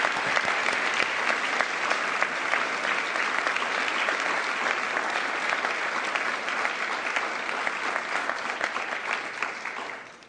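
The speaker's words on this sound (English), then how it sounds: "Please, another round of applause." Sustained audience applause at an International Women of Courage Award Ceremony, a dense, steady wash of clapping from a large crowd lasting about ten seconds before tapering off at the end.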